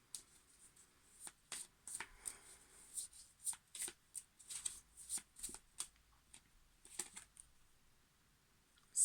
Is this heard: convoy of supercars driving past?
no